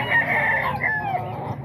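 A yellow-legged gamecock rooster crows one loud, close, drawn-out call with a rising then falling finish, heard alone without voices.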